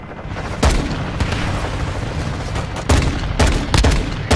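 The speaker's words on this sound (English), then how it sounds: "Friendly precision airstrike inbound." Precision airstrike explosions in a Call of Duty multiplayer match crash in a series of loud, close booms, several sharp blasts spaced irregularly and clustering toward the end over ongoing gunfire.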